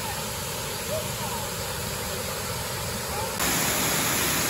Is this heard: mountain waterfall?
yes